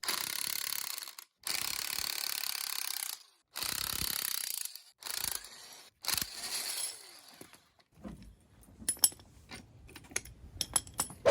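Spring compression tool coming off a strut from a 2007 GMC Sierra: long sustained ratcheting whirs, probably an impact or power tool, in several bursts, then scattered metallic clicks and clanks, close and loud with no talking.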